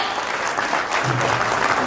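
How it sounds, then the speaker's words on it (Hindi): Spectators at a Yesworld token launch event in Jaipur give loud, continuous applause, a close, even wash of clapping with no break. "एक बार उनके लिए जोरदार तालियां हो जाए एक बार फिर से एवरीवन"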